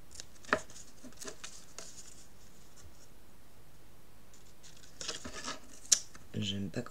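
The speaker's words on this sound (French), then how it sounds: "Et elle est au ciseau." Scissors snip paper for a scrapbook album in a few quiet, scattered cuts with rustling handling noises between them. A faint voice can be heard at times.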